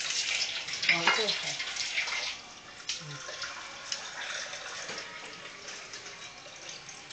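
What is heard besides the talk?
water being poured into a cooking pan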